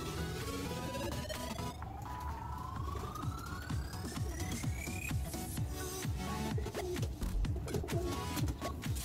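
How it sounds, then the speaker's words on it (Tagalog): Pet pigeons cooing in a loft, soft repeated coos close by, with a siren rising and fading in the distance behind them. "Ayan, mga ibon natin."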